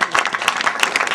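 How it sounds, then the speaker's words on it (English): An audience at a film awards event bursts into applause, a dense patter of many hands clapping steadily and close, with no talk over it. "So give yourselves a round of applause as well."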